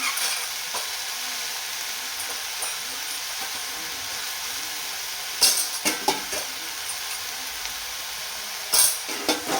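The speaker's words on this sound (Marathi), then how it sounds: "कांदा आहे तो लवकर तेलामध्ये परततो. आणि लगेच हळद पण घालून घेतो." Onion sautéing in oil with salt and turmeric gives a continuous, even hiss. Toward the end a few louder scrapes and clatters of a spatula cut through the sizzle.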